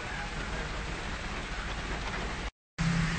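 Heavy rain pours down in Lebanon, a dense, steady roar of water with a low rumble beneath, broken by a brief cut of silence before the downpour resumes just as loud.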